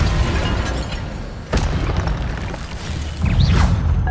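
Fire spell cast in Hogwarts Legacy on PS5: a sharp whooshing burst with a booming impact, followed by further rushing swishes and rumbling effects over a continuous dense game soundscape.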